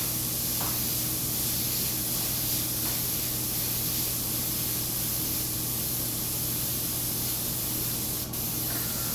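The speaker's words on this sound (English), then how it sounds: "airbrush pointed in the direction that I want the overspray to go" An airbrush sprays paint in a steady, continuous hiss that stays close and fairly loud without a break, with no voices over it.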